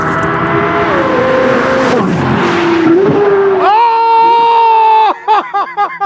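A Corvette race car tears around a hot lap at speed, its engine roaring loud and close through gear changes, then climbing to a steady high whine before revving in short bursts; excited voices are heard throughout.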